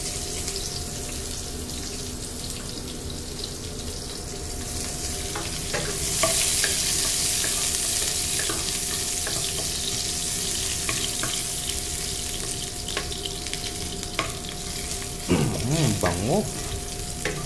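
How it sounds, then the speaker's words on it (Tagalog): Garlic fries in an oiled pan, a steady loud sizzle that swells after a few seconds, with scraping stirs and a brief splash of running water near the end, close and with no voices. "Lagay na natin yung ating bawang."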